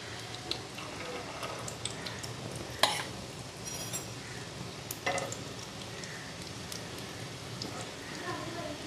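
Snacks frying and puffing up in hot oil in a pan make a steady low sizzle dotted with small pops and crackles, a couple of sharper spits standing out, while someone talks throughout.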